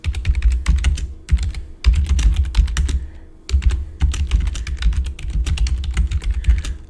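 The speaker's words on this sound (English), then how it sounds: "Let me figure out how to type." Rapid typing on a computer keyboard, a dense run of close, loud clicking keystrokes in bursts with brief pauses, no voices.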